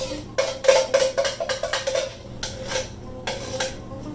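A spoon scrapes and clinks repeatedly against a metal pot while crushed tomato is stirred into borscht, a fast irregular run of close, fairly loud knocks that pauses and then resumes with a few more strokes.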